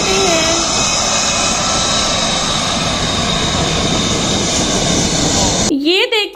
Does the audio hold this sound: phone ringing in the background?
no